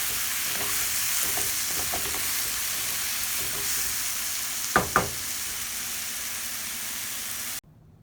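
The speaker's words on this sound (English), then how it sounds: "If you want to eat crispy squash, cook about 3 minutes." Squash fries in a pan with a continuous close sizzle, broken by a few soft stirring scrapes and two sharp utensil knocks near the end before the sound cuts off.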